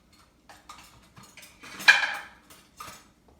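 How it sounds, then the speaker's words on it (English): A small spoon clinks and scrapes against the inside of a Vitamix blender container while scooping out protein pancake batter, with several short taps and one louder scrape near the middle, close and with no talk. "Got a little spoon here to help me scoop this stuff out."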